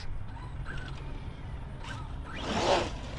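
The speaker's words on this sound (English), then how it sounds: "You hear that? That's not the tires. I think that it's the drive shaft." An Arrma Mojave 4S RC truck running on a CNHL 4S battery at a dirt track gives a steady low rumble with faint mechanical chatter from the drive shaft, then a louder rasping whoosh swells near the end.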